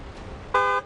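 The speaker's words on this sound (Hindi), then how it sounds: "हॉर्न बजाएं।" A single car horn blast on a street, lasting about a quarter second, steady and fairly loud over quiet background noise, with no one talking.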